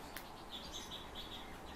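European bee-eaters give a quick series of soft, high, rolling chirps, faint and distant over a steady background hiss.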